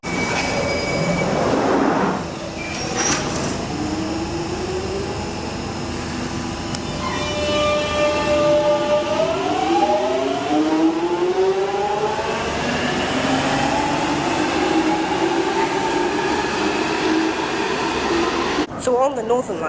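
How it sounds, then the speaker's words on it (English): A London Underground Northern Line train at a platform moves with a loud metallic rumble and rising, then falling whining tones from its motors. A voice speaks briefly early on, and a sharp clatter comes at the end. "So on the Northern Line platforms, here's a train."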